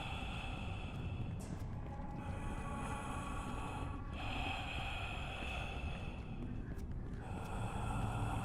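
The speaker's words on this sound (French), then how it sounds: "il y a cette respiration derrière vous qui est de plus en plus pesante" Heavy, laboured breathing creeps up behind the player in a creepy video game hidden scene, a continuous close rasping breath over a dense ambient drone with a few sharp snort-like intakes.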